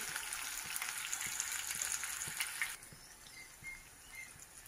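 Onions frying in a pan for mutton curry give a steady crackling sizzle that drops to a quieter, sparser fizz partway through, with no talking.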